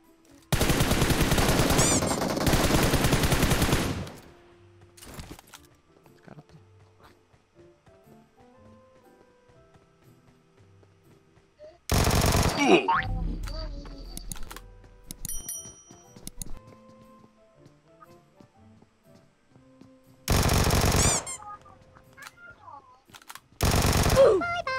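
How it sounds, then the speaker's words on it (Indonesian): PUBG gunfire aimed at a monster: three loud bursts of rapid automatic fire separated by long quiet stretches holding faint clicks and ambient game sounds. "Maksudnya masih nembak monster ya."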